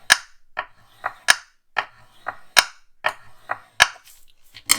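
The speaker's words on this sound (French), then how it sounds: "Je reprends mon plioir et je trace un trait." A bone folder tracing a crease line on cardstock, heard as a run of sharp, close dry clicks and taps at a fairly regular rhythm, each one brief and loud against silence.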